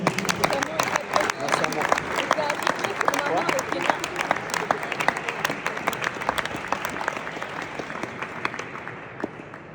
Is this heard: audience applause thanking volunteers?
yes